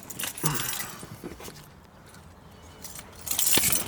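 Car keys jangle close by while a starter is being replaced on a 2006 Toyota 4Runner with the 4.7-litre 2UZ-FE V8, a short metallic rattle near the start and again near the end, with a quieter gap between.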